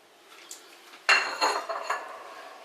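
A pot clanks as washed chicken breast goes into cold water to boil, a sharp metallic knock followed by a few lighter clinks and scrapes of cookware close by, with no talking.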